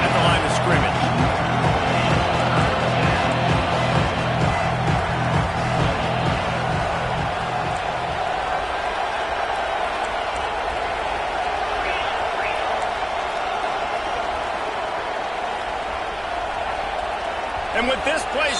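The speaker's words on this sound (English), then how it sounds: "with this place rocking, the crowd forces a false start" A roaring stadium crowd at a Rutgers versus Texas A&M college football game, a steady loud wall of noise that holds throughout, with a commentator talking over it.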